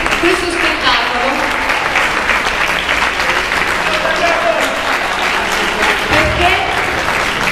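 An audience at a classical dance gala performing the Cinderella suite breaks into loud, sustained applause, a dense wall of clapping that fills the hall throughout, with a voice faintly heard over it.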